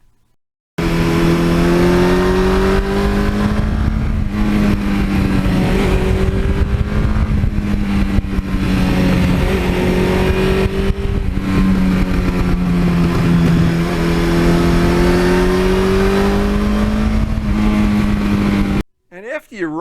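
A 1982 Suzuki GS1100E motorcycle engine pulls smoothly and loudly under a rolled-on throttle, its steady rising drone holding close and continuous for nearly the whole stretch before cutting off abruptly.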